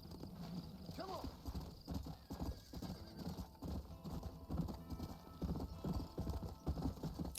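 A horse's hooves clip-clop in a steady walking rhythm, with a rising whinny near the start, over continuous ambient background in a western open-world game.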